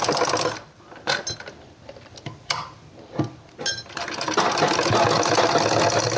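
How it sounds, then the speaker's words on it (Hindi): A sewing machine stitches a straight seam on a woman's cord set shirt, running in short bursts at first and then settling into a steady, loud, continuous whir that lasts to the end. "तो चलिए मैं आपको ये सिलाई लगाकर दिखा देती हूँ"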